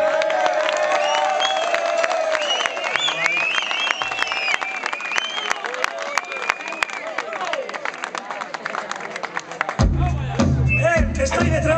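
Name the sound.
audience applauding and cheering at a blues concert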